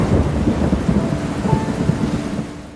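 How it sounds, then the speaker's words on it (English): Heavy rain pours steadily in Nigeria while a low rumble of thunder rolls underneath, loud and close, fading slightly at the end. "And then rain decided to fall"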